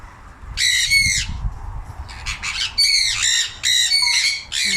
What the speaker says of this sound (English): And the sun conures.